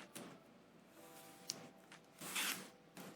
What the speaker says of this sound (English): Let me go and do a 2 deck shuffle here as best I can without looking at it